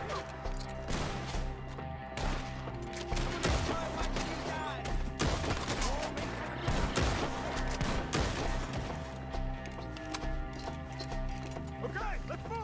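Gunfight in Red Dead Redemption 2 with a gang firing from the trees: repeated sharp gunshots and scattered volleys crack over an ongoing game soundscape with horse hooves, intense and irregular across the stretch.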